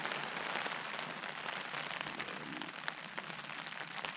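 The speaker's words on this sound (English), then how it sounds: "I like the sound of rain on the tent." Steady rain patters on a taut tent nearby on Dartmoor, a dense, even hiss of drops with occasional louder individual taps.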